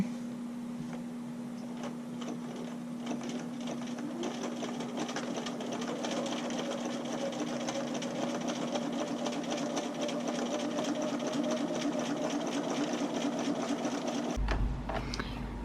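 A sewing machine stitches hook-and-eye tape onto a black bra, running as one steady, close whirring hum for about fourteen seconds before stopping abruptly.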